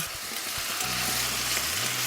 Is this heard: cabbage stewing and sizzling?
yes